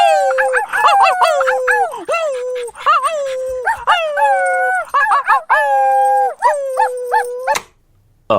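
Several people howl together like a pack of dogs, long rising and falling wavering cries overlapping loudly for about seven seconds before breaking off into quiet, the voices imitating wolf or dog howls.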